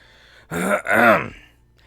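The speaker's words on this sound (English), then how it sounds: "forgive me for coughing so much" A single throaty clearing sound from a person who has been coughing a lot after being sick. It comes close and loud as one short rasp, then a longer, voiced, groaning rasp, with quiet before and after.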